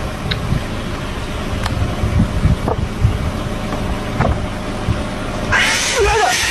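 A cat yowls in a long, wavering cry amid traffic noise of passing cars, with scattered thumps and a burst of wind noise near the end.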